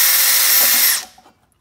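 A power drill bores a small pilot hole while fitting a B16 intake manifold onto a B20 engine, whining steadily and loudly for about a second before spinning down and stopping.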